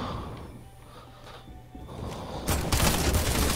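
Video game gunfire in a desert setting: a muffled, rumbling stretch breaks into a louder, dense burst of rapid shots.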